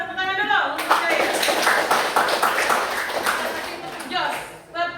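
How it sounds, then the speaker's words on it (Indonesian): A burst of applause and clapping fills most of the clip, framed by a voice speaking briefly at the start and end. "Kita tepuk tangan dulu untuk saya."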